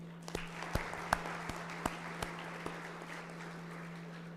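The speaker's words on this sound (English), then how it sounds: "your parents as well as you are deserving the round of applause" An audience at a medical school white coat ceremony gives faint, scattered applause, with separate claps spaced apart over a steady low background hum.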